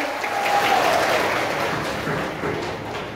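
A congregation at a summer catechist training opening applauds to welcome about 150 students, a warm, dense wash of clapping from a large crowd that stays steady and moderately loud, then eases off slightly.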